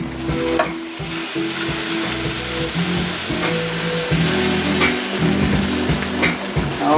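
Hot peach cobbler juice bubbling and sizzling in a pan, a loud continuous crackling fizz with steady popping texture throughout.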